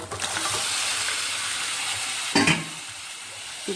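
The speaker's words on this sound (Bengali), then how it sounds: "ভালোভাবে এখন কষিয়ে নেব" Chicken and fried onions sautéing together for a chicken curry, giving a steady, close hissing sizzle, with one brief louder scrape or clatter partway through and no voices.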